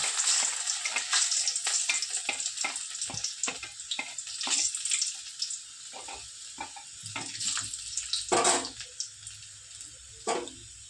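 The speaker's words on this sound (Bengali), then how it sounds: "তো বেগুন ভাজা তেলে প্রথমে দিয়ে দিলাম রসুন কুচি" Chopped garlic sizzles in oil left from frying eggplant, a bubbling crackle that rises and fades, with a few louder spatters and stirring knocks close by.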